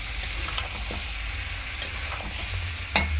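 Goat meat being sautéed with ginger and garlic in a pan gives a steady sizzle with scattered clicks of stirring, a louder scrape near the end, no voices.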